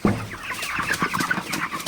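A flock of broiler chickens clucking and murmuring close by at night, a continuous low chatter of many birds.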